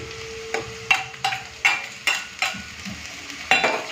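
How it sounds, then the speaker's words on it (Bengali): Ginger-garlic paste frying with onions in a pan, a soft continuous sizzle punctuated by about ten scraping strokes of a spoon stirring at an uneven rhythm, close and moderately loud. "আদা রসুনটাকে আমি পেঁয়াজের সাথে ভালো করে ভেজে নিয়েছি"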